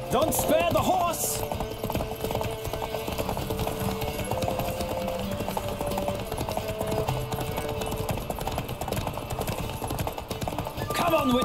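Rapid, continuous hoofbeats of a horse galloping in a race in The Witcher 3, with game music underneath, a brief neigh and some voices over the pounding rhythm.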